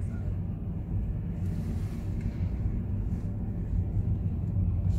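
Honda e electric car moving off, heard as a steady, even low rumble of road and cabin noise with a faint airy hiss throughout and no distinct engine note.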